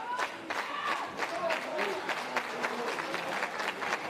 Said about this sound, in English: You can hear the crowd looking to will on Moose.